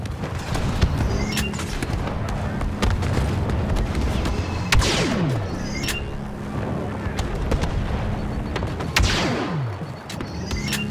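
Rocket launches and heavy gunfire in a Star Wars Battlefront II Galactic Assault match against an Imperial walker: a dense, continuous barrage of booming blasts and rapid shots, with whooshing rockets streaking past amid a loud battle din.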